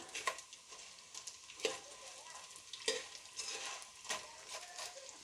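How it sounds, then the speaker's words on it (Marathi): Edible gum (dink) frying in oil over a low flame for moong ladoos, a soft steady sizzle broken by regular scrapes and clinks of stirring about once a second, no voices. "डिंक इथं मंद आचेवरतीच तळून घ्यायचं"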